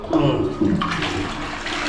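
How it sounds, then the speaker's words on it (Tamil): Water gushes strongly in a washroom fitted with a western toilet and valve, a loud steady rush over most of the short clip, with a brief voice near the start. "தண்ணியெல்லாம் வருது பயங்கரமாக"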